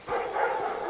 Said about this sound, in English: Uh-oh, dogs. A lot of dogs.